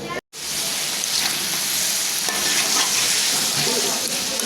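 Okra and mixed vegetables fry and are stirred in a pan, giving a loud, steady crackling sizzle that runs almost throughout after a brief silent gap at the start, with no talking.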